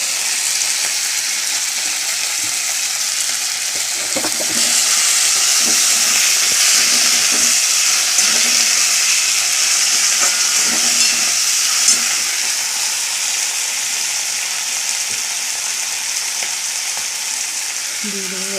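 Small fish curry with tomato and salt frying in a pan, giving a steady, loud sizzle and hiss that runs throughout with faint stirring clinks.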